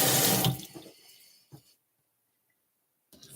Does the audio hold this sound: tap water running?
yes